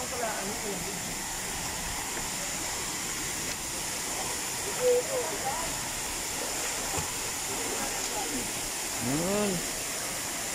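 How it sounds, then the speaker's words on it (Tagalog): Steady broadband rush of a waterfall at a hidden bathing spot, constant and moderately loud, with people talking over it now and then. "Ayan o, yung falls. Ang ganda."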